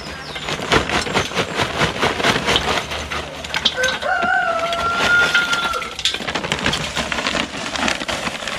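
A rooster crows once, a short rising call in the middle, over steady crackling, snapping noise that runs throughout.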